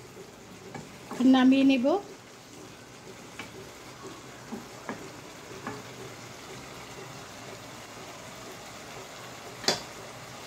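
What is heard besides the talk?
stirring kechki fish frying in a pan with salt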